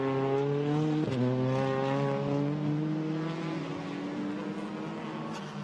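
A Hyundai TCR race car from the BRC team laps the Spa circuit in qualifying, its engine a loud, sustained howl whose pitch shifts once sharply, as at a gear change, then climbs steadily with no talk over it.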